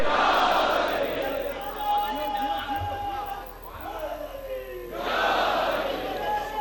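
A congregation at a religious majlis gathering roars a loud collective shout in reply to a chant, with voices swelling, dipping and surging again in unison.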